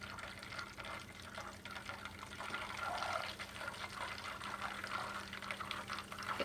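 Butter simmering down into homemade ghee in a pan, a steady soft bubbling and sizzling hiss that continues evenly and quietly throughout.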